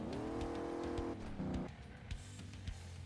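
Sporty off-road pick-up truck engine in Crash Time 4 revs loudly and steadily, its tone shifting and dropping partway through as it keeps droning close by, no voices present.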